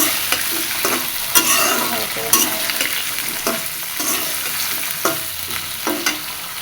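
Cut potatoes and vegetable stalks sizzle in hot oil with green chilies and cumin seeds, with steady close frying and occasional stirring scrapes, no voices.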